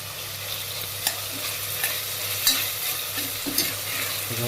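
Garlic paste is stirred and fried in a pan for home-style pav bhaji. A steady sizzle runs underneath, with repeated scraping strokes of a spoon against the pan, close and fairly loud, and no talking.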